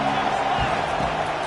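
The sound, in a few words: football stadium crowd cheering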